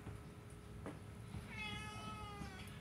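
A tabby cat gives a single drawn-out meow, faint and fairly close, over a low steady background hum in a quiet indoor room.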